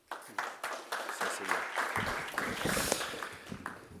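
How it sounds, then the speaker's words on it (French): An audience at a professional conference breaks into applause that starts scattered and builds into steady clapping from a crowd in a large room. "d'accueillir Henri Buzicazo, président IMSI, que je vous demande d'applaudir bien fort."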